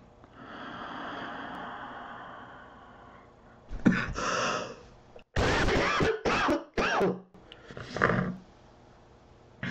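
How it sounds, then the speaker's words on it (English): Harsh, explosive coughing from someone with bronchitis, several loud close bursts in quick succession after a stretch of quiet background noise, with one more burst near the end. "I apologize for the coughing."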